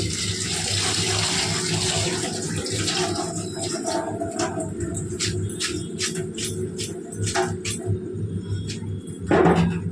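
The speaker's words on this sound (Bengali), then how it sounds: "চলো চাউমিনগুলো ভালো করে জলে ধুয়ে নিই" Chowmein noodles are rinsed under a running kitchen tap, with a steady loud stream of water and splashing close by, joined by scattered clatters of the noodles and container and a brief splash near the end.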